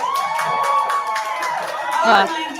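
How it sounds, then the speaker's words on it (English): Live comedy club audience in Vegas or Dallas cheering, whooping and clapping, a dense crowd roar with scattered claps and shouts throughout. "It felt so good to get that immediate like woo and clap"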